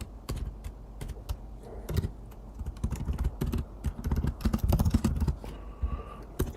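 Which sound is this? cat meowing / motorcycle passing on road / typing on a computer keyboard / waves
typing on a computer keyboard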